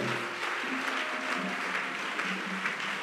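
A church congregation at a Sunday service applauding and acclaiming in worship, a dense, even wash of clapping with faint sustained tones underneath, continuous and moderately loud.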